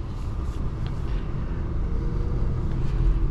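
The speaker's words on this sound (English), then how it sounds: "now we'll take this 2023 Q50 on a road test" A 2023 Infiniti Q50 pulls away on a road test at night, its engine and tire rumble building steadily from inside the cabin, moderately loud with no talk.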